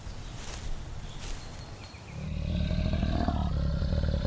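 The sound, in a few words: lion growling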